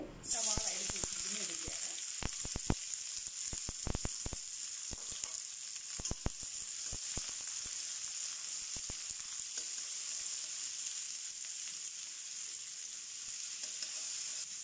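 Hot oil in a pan sizzles loudly and steadily as ingredients for Kerala kothu porotta are added and stirred, with scattered sharp clicks and scrapes early on before an even, close frying hiss.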